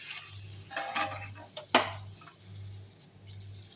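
Puris fry in hot oil with a soft, steady sizzle and bubbling, broken by light stirring and scraping plus one sharp clink of a utensil against the pan, over a low hum.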